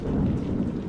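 Heavy thunderstorm with a downpour and wind, a dense steady roar of rain with low rumbling thunder, loud and continuous throughout with no voices.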